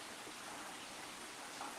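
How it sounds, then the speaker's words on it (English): Rain falling outside during a quiet morning, heard as a faint, steady, even hiss that continues without a break; no one speaks over it. "I don't know if you can hear the rain"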